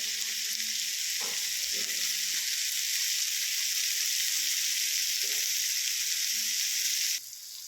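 Food frying with salt in a pan, a steady hissing sizzle with a few soft stirring taps, ending abruptly near the end.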